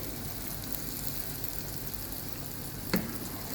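Steady, crackling sizzle of tofu frying in hot oil, continuous and fairly soft, with one brief sharper pop near the end.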